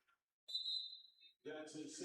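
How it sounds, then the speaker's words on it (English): A referee's whistle at a high school basketball game gives one sharp, steady blast, followed by a commentator's voice. "when he heard the whistle"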